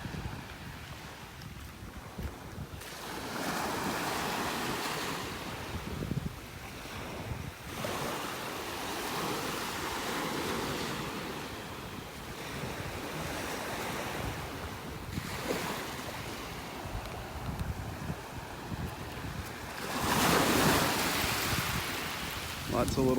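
Ocean waves wash onto a beach in North Naples, Florida, surging and receding in broad swells under steady wind buffeting the microphone, with one louder wave rolling in near the end.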